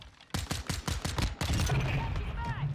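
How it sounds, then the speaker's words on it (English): Rapid pistol fire in Modern Warfare 2, played with a Strike Pack controller mod, comes as a fast, evenly spaced string of about eight sharp close shots, followed by game noise and someone talking. "Only a couple of kills with my pistol. Get that little rapid fire action going."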